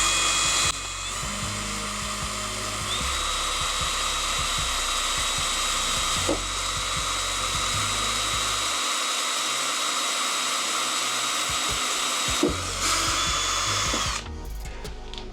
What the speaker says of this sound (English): and then basically we drill the hole.